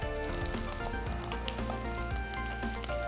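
Onions frying in a pan with ginger paste added to the cooking for prawn koliwada or kadai lamb chops: a steady, close sizzle crackles continuously, with occasional stirring scrapes and no talk.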